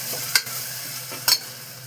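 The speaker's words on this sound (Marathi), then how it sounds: "आता आलं लसूण पेस्ट आणि मिरची, कोथिंबीर बस हे करून टाकूया आणि चांगली परतून घेऊया." Ginger-garlic paste, green chilli and coriander sautéing in a pan for a masoor rice dish, a low steady sizzle with two sharp stirring scrapes, no talk.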